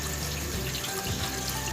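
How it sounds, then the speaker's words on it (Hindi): Cold tap water on a rainy day streams steadily from a kitchen faucet over freshly drained hot pasta, a continuous close splashing rush with no voices. "गरम गरम पास्ता निकाल के मैंने टैप के नीचे कर दिया है और ये ठंडा पानी है"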